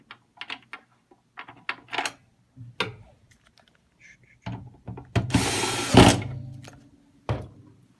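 A long screw is driven back into a CAS SW Series electronic scale during calibration, with light scattered clicks and ticks, then a dense, louder grinding burst of a couple of seconds near the end.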